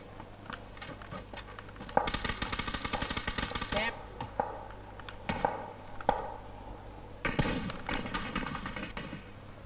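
Gunfire in PUBG, rapid automatic bursts in two loud clusters and scattered single shots, crisp and fairly close, with excited voices talking over the shooting.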